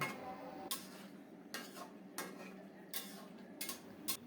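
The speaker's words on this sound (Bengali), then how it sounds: "এইভাবে মাংসটাকে সুন্দর মতো কষিয়ে নেব" Chicken for biryani stirred and fried in a pot, giving soft, quiet scraping strokes at irregular intervals over a low sizzle.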